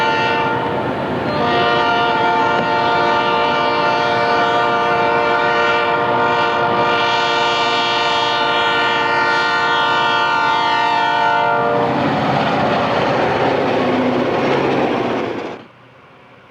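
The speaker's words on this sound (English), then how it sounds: "Southbound CHC passes through Makanda on what was the northbound main" A loud southbound Illinois Central freight train rolls past close by at Makanda, Illinois, with a long, sustained multi-tone horn blast, then the rumble and clatter of cars continue before cutting off.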